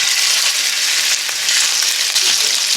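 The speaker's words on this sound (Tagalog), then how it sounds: "So maglagay na tayo ng mantika sa ating kawali kasi isisir na natin yung ating beef." Beef searing in hot oil in a frying pan gives off a loud, dense, continuous sizzle with a steady crackle, close up and with no talk over it.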